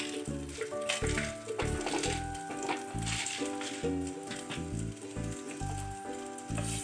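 Whole cinnamon and cardamom sizzle in hot oil for a Kerala-style fish stew, a steady crackling frying hiss with bright spits running the whole time, fairly loud and close, no talking.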